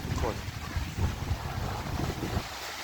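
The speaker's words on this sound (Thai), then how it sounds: "ดูคลื่นตอนกลางคืนกันนะทุกคน" Waves wash onto a sandy beach at night near Sai Ree beach, a continuous rushing surf with wind buffeting the microphone.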